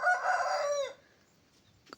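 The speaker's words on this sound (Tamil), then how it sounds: "சேவல் கூவுது." A rooster crows once at dawn in a rural Tamil village yard, a loud, close, drawn-out cock-a-doodle-doo that trails off into near silence with a faint click at the end.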